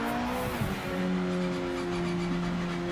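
Race car engine from a sim racing game at steady high revs, a continuous loud drone with a strong steady pitch and faint tire noise, no talk.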